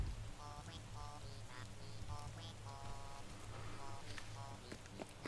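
Rain falling on a garden with flowers in a video game, a soft, steady patter of drops beneath faint, repeating melodic tones, all quite quiet.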